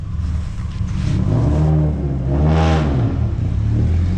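A Ducati 1299S Panigale motorcycle engine revving up and down close by, a loud, rising and falling mechanical drone alone without talk.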